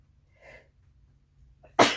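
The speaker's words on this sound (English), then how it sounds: "I'm gonna sneeze." A person sneezes once, loudly and close by, at the very end. Before it there is near silence with only a faint breath or small vocal sound.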